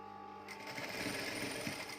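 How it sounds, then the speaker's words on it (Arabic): A sewing machine stitches along the edge of a bedsheet, starting after a brief pause and then running as a steady, close mechanical whir. "نبدا نخيط بقى بالطريقه دي على الطرف خالص اهو"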